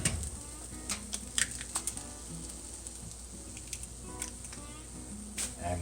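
An egg sizzling as it hits a hot pan of ground beef fried rice with green onion, a soft steady crackle broken by sharp pops and spatters, close and fairly quiet with no talking.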